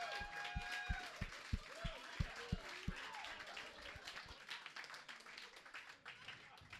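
Audience applause at a stand-up comedy set, opening with a run of sharp individual claps that build into steady crowd clapping and then fade under murmuring voices and talk.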